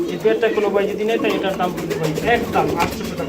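Giribaz pigeons coo repeatedly in low, throaty calls close by at a pigeon sale, with people talking over them throughout.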